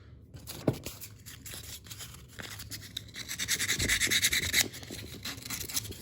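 Back piece of a corroded car starter being scrubbed clean, a close, steady rasping rub that builds into a dense, louder stretch of back-and-forth scratching, with no talking.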